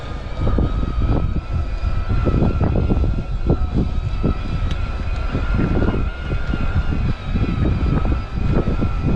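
Scott Silence eRIDE EVO speed e-bike with its mid-drive motor running while being ridden, a steady whine and hum under constant wind rush and road rumble, close and loud throughout with no talking.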